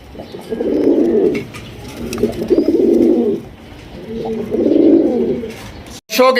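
Fancy pigeons coo close and loud in three long, rolling phrases with short pauses between, ending in a brief sharp noise.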